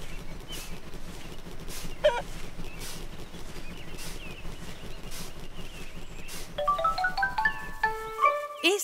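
Chickens clucking in a Peppa Pig video game, a few soft clucks and calls scattered over a quiet background, followed by a bright rising musical chime flourish near the end.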